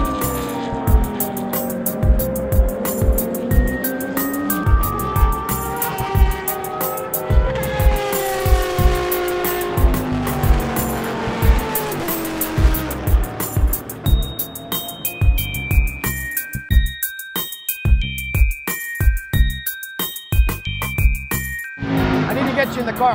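A race car at the Rolex 24 endurance race roars past with engine revs, gear shifts and downshifts, a loud, continuous drone rising and falling over the whole stretch, with voices talking over it.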